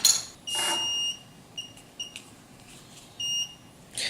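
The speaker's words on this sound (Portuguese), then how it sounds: "O próximo erro aciona o alarme." Electronic beeps from an Arduino keypad and RFID door lock sounding its alarm after repeated wrong passwords, several short high tones and a few longer bursts, close and fairly loud, with no talk.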